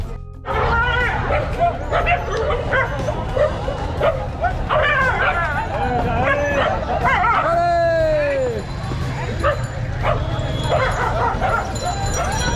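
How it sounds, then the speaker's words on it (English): Several dogs snarl, yelp and bark in a noisy scuffle at a crowded market in Dhaka, Bangladesh, with whimpers and a rising howl, over a steady background hum and crowd noise. "Dogs are fighting."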